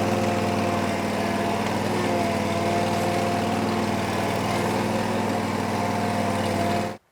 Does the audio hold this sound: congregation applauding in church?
no